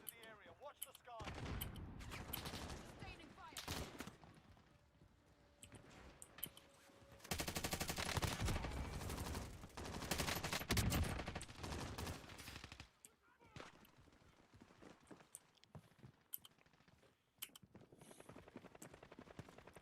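Rapid gunfire in the video game Call of Duty, with bursts of automatic fire and scattered single shots, loud and close, over several stretches with quieter gaps and occasional voices.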